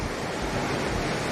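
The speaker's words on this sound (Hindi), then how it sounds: "इतना हवा चल रहा है कि अब क्या बोलूँ।" Strong wind blows steadily outdoors, a dense, continuous broadband rush buffeting the microphone with no voices heard.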